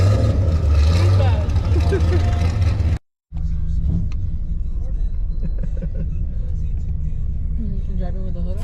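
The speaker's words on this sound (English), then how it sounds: "Driving with the hood up." A car driving past with its hood up at an OC Bangerz x Yakuza car meet. The engine rumbles loudly and steadily, with a brief dropout. People talk over the engine noise.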